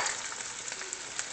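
Frozen shrimp frying in a pan, a steady close hiss of sizzling oil with faint crackles, no talking.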